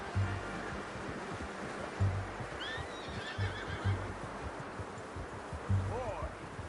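A horse in Red Dead Redemption 2 whinnies once near the end, a short rising call amid steady game ambience, with faint hoof clops and some low background noise throughout.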